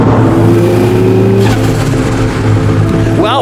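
A tuned turbocharged L28 engine in a 43-year-old Datsun 280ZX revs loudly and close, with a rising whine and roar that eases off at the end.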